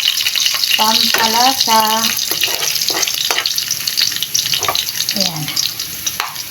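Small noodles frying in a pan for a simple home breakfast give a steady, close sizzle that runs through the whole stretch, with someone speaking briefly over it.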